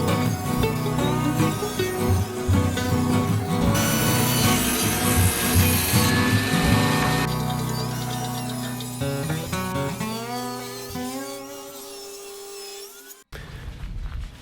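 A wide wooden pallet plank is ripped lengthwise into three strips, producing a loud, sustained saw noise with a shifting whine that gradually eases before stopping abruptly near the end.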